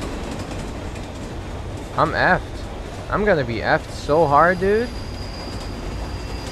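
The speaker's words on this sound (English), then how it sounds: "This train is going like 200 miles" A video game train in a horror game at Estacao Liberdade rumbles along its rails with a steady mechanical drone and faint high squeals, while someone talks nervously over it in short bursts.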